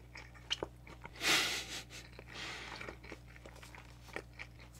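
Someone chews a Wendy's Korean BBQ cheeseburger that has gone cold. A few soft bites and chewing sounds come through at close range, with one louder crunchy burst in the middle, over a quiet background hum.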